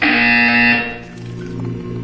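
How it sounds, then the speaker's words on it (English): A loud, steady electronic buzzer tone from the Portal 2 test chamber, holding strong for about three quarters of a second before dropping into a quieter hum with faint background sounds. "You will hear a buzzer."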